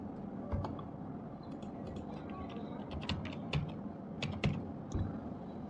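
Keys on a computer keyboard are tapped in quiet, irregular bursts while someone fills in an online form, with a few sharper clicks standing out and no talk.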